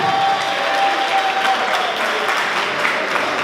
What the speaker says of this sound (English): Give my guys another round of applause.